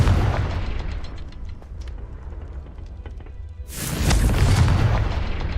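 A Confringo spell blast in the Hogwarts Legacy video game: a loud, sudden booming burst that erupts near the end and rumbles on, following a quieter stretch of low rumbling game ambience.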